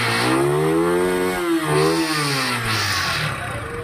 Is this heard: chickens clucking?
no